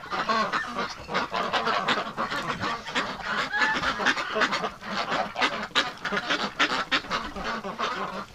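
Wintering ducks and geese in bitter -37°C wind chill keep up a dense, loud chorus of overlapping honks and quacks, close by and continuous with no pauses and no talking.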